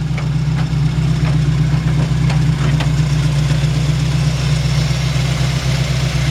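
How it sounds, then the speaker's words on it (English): The engine of a 1941 Ford truck idles steadily with a deep, even low rumble and a faint rhythmic ticking on top, close and loud throughout. "So let's hear that engine real quick before we turn it off and show the rest of the truck."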